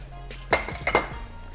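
A spoon clinks twice against a metal pot while stirring tamale filling seasoned with garlic, salt, cumin and mustard, two short bright metallic knocks over a quiet kitchen background.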